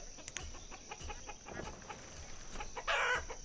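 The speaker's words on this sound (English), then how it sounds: "maybe all these chickens will move over there." Leghorn chickens clucking and crowing in the colonial city-building game Banished, a scattered run of soft, fairly faint clucks and calls ending with a louder burst near the end.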